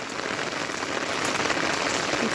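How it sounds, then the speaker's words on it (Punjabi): Heavy rain pours steadily, a dense, constant hiss of drops drumming on surfaces with no pauses. "ਤੁਸੀਂ ਕਿੰਨੀ ਜ਼ੋਰ ਨਾਲ ਬਾਰਿਸ਼ ਪੈ ਰਹੀ ਹੈ"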